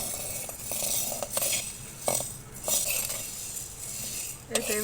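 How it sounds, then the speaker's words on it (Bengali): Black gram lentils being roasted and stirred on a clay griddle, with scattered scraping and clinking of a utensil against the surface in irregular bursts, fairly close. "আমাদের এখানে বালু নাই, তাই আমি এভাবে মাটির তাওয়াতেই ভেজে নিচ্ছি।"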